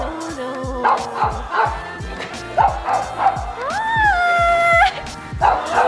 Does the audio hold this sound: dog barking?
yes